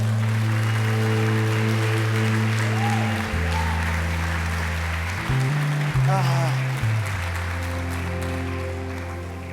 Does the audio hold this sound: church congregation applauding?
yes